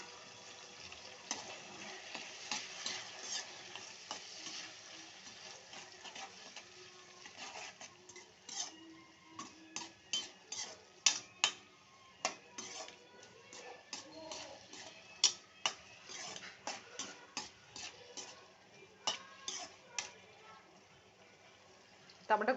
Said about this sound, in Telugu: టమాటా గుజ్జు అంతా బయటకు వచ్చేంత వరకు ఉడకబెట్టుకోవాలి బాగా